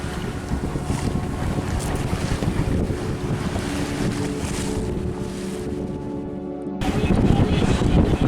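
A sailboat beats upwind under reefed main and small jib in open ocean swell, with steady rushing wind across the microphone and irregular waves slapping and churning against the hull, growing louder toward the end.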